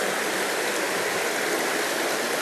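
A river flowing steadily in a brook trout stream setting, a constant, full broadband rush of moving water, close and even throughout with no speech.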